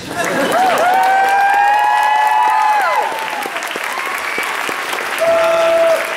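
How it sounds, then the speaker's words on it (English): Loud, sustained applause from a convention crowd at a closing ceremony, steady clapping that fills the whole stretch with a few whistles or cheers rising over it. "big round of applause, guys"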